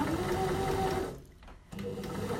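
A sewing machine stitches bias binding onto a garment neckline, whirring steadily, pausing briefly, then starting up again for a few more stitches.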